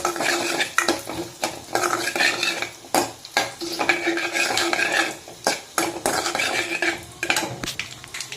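Tiffin sambar made without dal being stirred in a metal pot, repeated scraping and clinking strokes of a spoon against the pot in an uneven rhythm over a soft simmering sizzle, close and fairly loud.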